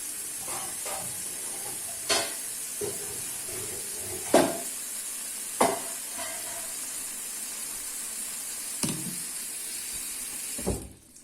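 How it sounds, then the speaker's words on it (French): Fava beans being washed in water, with a steady soft rush of water running throughout and a handful of sharp clacks and splashes spaced every second or two, close by with no talking. "دابا غادي نغسلهم، غندير فيهم الماء"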